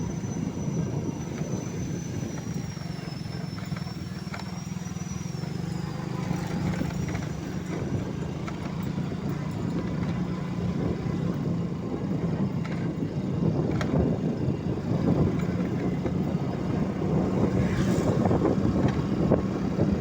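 Motorbike riding along a road beside rice fields in a village in Bekasi, Indonesia, a continuous steady engine drone and wind rush throughout, close and loud, with a faint whine drifting above it.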